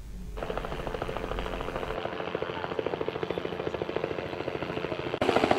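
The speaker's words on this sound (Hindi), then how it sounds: "गणतन्त्र दिवस 2075 अंकित नेपाली सेनाको हेलिकप्टर पुष्प दृष्टि सहित पूर्वबाट पश्चिमतर्फ उड्दैछ" A Nepali Army helicopter showers flowers during a Republic Day 2075 celebration, flying overhead from east to west; its rotor chops fast and steady, loud and continuous throughout.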